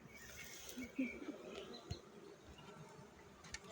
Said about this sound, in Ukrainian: Повний вулик бджолів